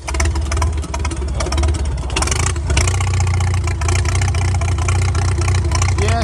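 An antique tractor engine starts up and runs rough, loud and close, its uneven chugging beat broken by misfires and irregular knocks.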